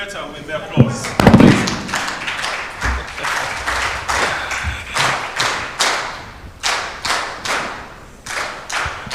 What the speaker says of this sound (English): I believe we can do better with the applause.